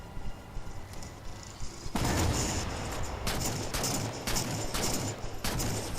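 In the Halo 4 campaign, DMR and railgun fire bursts loud and close after a quieter opening, with repeated heavy shots and echoing blasts running through the rest of the clip.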